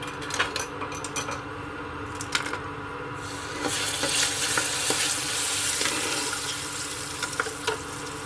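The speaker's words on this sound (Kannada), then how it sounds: "ನೆಕ್ಸ್ಟು ಗೋಡಂಬಿ, ದ್ರಾಕ್ಷಿ ಕರಿಬೇಕು." Cashews and raisins frying in ghee for a village-style red rice payasa, a steady sizzle that swells louder midway, with occasional stirring scrapes and clicks of the spoon against the pan.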